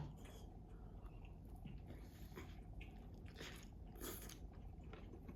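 Biting and chewing a cheese-flavored tortilla snack, close, soft crunches and moist chewing repeating steadily in a quiet room, with a few sharper bites standing out.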